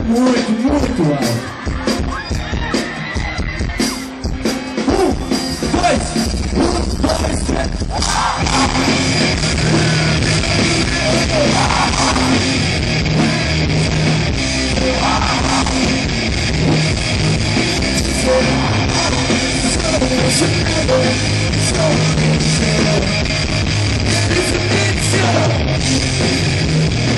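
A concert crowd at a band's show jumps and yells very loudly, a dense continuous roar of shouting and cheering that swells after the first few seconds, with voices and music mixed into the din.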